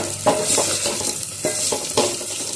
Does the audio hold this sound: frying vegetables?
yes